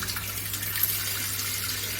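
Water is poured into an earthen clay pot, giving a continuous, even rushing splash close by, with no voices.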